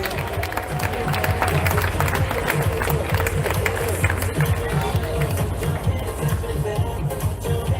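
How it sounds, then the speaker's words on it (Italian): An audience applauds at a bodybuilding competition for Figure Master Over 40 and Over 50 entrants at the Trofeo MyGym, steady clapping throughout with crowd noise and some talking. "Un applauso."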